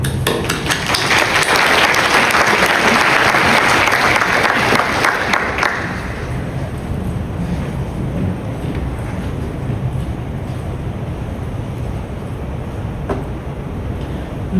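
A lecture hall audience at the ICM 2026 mathematics congress applauds to welcome Professor Claudia Beatriz Lederman. The clapping is dense and loud for about six seconds, then thins to a lower, steady patter for the rest of the clip.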